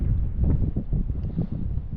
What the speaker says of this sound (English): you guys can probably hear the wind